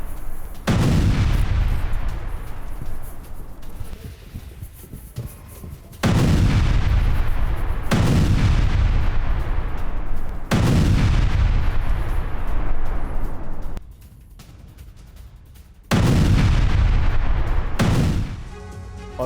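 Heavy booming blasts of landmines and explosions in the Russia-Ukraine war, about five in a row, each deep and rolling before fading, spaced a few seconds apart with no talking.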